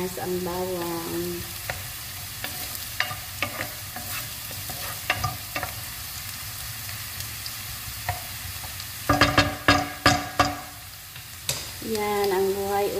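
Garlic fries in a pan for chicken liver adobo, a steady sizzle broken by sharp scraping and clanking stirs, with a louder burst of utensil clatter toward the end.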